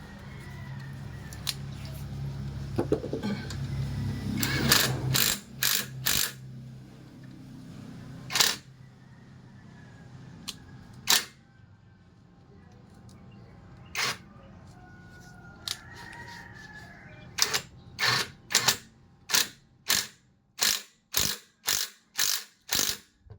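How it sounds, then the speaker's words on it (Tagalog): A ratchet wrench tightens bolts during a brake pad replacement on a Mitsubishi Xpander Cross, with sharp, close clicks coming in short bursts and then a fast even run near the end, after some low handling noise at the start. "So higpitan."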